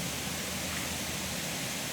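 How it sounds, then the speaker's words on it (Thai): Wang Bo waterfall in Prachin Buri, Thailand, pouring at dusk, a constant dense hiss of rushing water, steady and even throughout with no voices. "ที่น้ำตกวังบ่อนะครับ"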